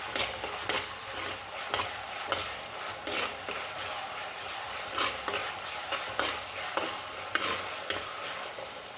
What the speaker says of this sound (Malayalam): ഒന്ന് ജസ്റ്റ് ഒന്ന് വഴറ്റി കൊടുക്കാം.